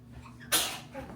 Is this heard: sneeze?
yes